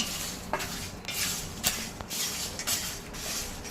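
Whole spices being dry-roasted without oil in a pan for homemade biryani masala, a spoon scraping and clinking against the metal in quick irregular strokes with light rattling, close by and without voices.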